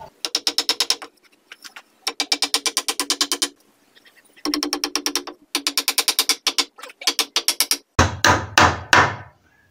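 Hammer blows driving nails into old wood while building a bedroom, landing in fast runs of sharp, evenly spaced strikes separated by short pauses, followed by a rougher, different noise at the end.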